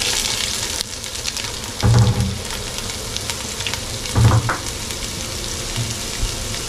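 Fenugreek seeds and ginger sizzle in hot oil for a Malabar-style trevally fish head curry, a steady close frying hiss with two louder bursts of crackle as more goes into the pan.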